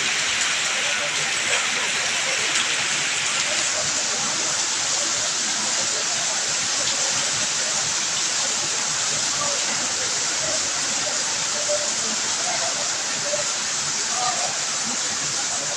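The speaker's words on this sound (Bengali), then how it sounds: "বৃষ্টি হচ্ছে প্রচণ্ড বেগে" Heavy rain pours down during an afternoon thunderstorm, a dense, unbroken roar of falling water that holds at an even loudness throughout.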